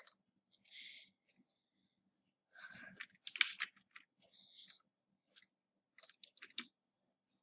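Computer mouse clicking, a quiet, close series of sharp, irregular clicks separated by short silences in an otherwise still room.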